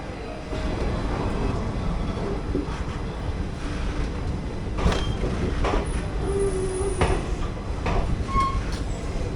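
The Malgudi Express, an AC chair car service from Bengaluru to Mysuru, pulls out of a station, heard from inside as a steady low rumble with intermittent clanks and creaks as the carriage gathers motion.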